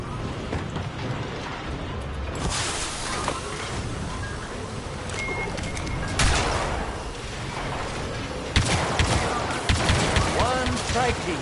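Gunfire in the first-person shooter Quarantine, with loud, dense bursts of shots over a steady game soundscape and sharper volleys near the end.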